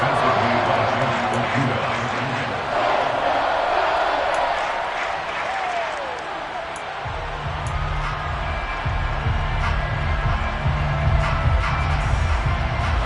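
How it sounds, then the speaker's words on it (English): Stadium crowd noise in a Madden football video game, a broad murmur and rising roar with scattered claps and cheers. A commentator's voice talks over it throughout, and the crowd swells toward the end. "Crowd getting in it a bit already."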